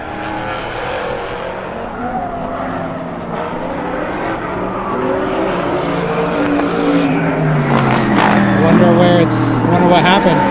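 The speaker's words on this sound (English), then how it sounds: "there goes the Dussault Corvette" A Dussault Corvette race car pulls away at a time attack track day, its engine note rising and growing louder over the last seconds while someone talks over it.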